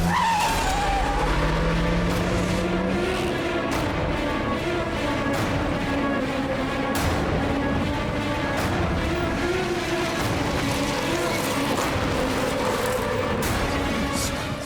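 A car tears away with loud skidding, squealing tires during a chase, the engine roaring steadily throughout with no talk over it.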